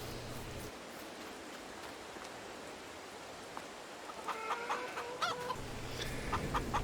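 Chickens clucking on a farm in the Farming Simulator 22 video game, a few short clucks over a steady hiss of ambient noise, fairly quiet and mid-distance.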